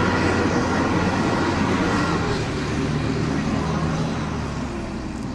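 A garbage truck rolls past a skate spot, a loud, steady low diesel rumble with broadband road noise holding through the whole stretch and easing slightly toward the end.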